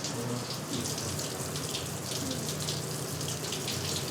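Wine splashes steadily in a continuous pour, a close, hissing stream of liquid that runs throughout.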